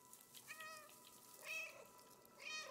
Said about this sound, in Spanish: Y claro, podemos maullar.